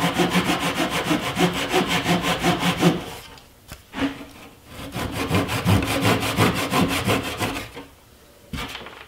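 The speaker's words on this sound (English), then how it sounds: "now I'm going to cut the plug flush with the tabletop with a pull saw" A pull saw cuts a wooden plug flush with a wooden tabletop in quick, rhythmic rasping strokes, pausing briefly, then resuming steadier sawing before a final short burst, up close and with no talk.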